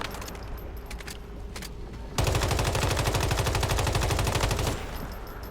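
Rapid automatic gunfire with steel ammo erupts in the survival shooter Once Human: a sustained, evenly spaced burst of loud shots lasting a couple of seconds, after quieter ambient game noise and faint clinks.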